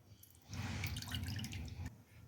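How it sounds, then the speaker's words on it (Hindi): Tamarind water pours into a bowl for kala chana chaat, a soft continuous splashing and trickling that begins after a short pause and stops abruptly near the end. "एक बोल लें और इसमें ये इमली का जो पानी है ये डाल दें।"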